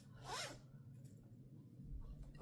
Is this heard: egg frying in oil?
no